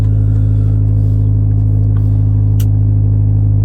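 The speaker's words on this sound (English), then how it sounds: "Sounds pretty decent so far. It's got a major exhaust leak." A 1989 Honda Civic sedan engine with a major exhaust leak idles steadily with a deep, rough, throaty rumble, loud and close, no voices.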